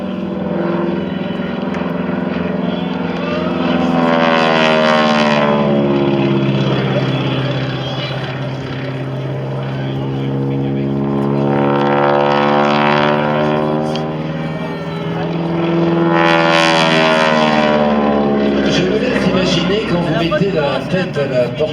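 A Stearman biplane flies an aerobatic display at the 2019 world aerobatics championships in Châteauroux. Its loud propeller engine drones and swells as it passes close by, with the pitch rising and falling through each manoeuvre, while a commentator talks over it.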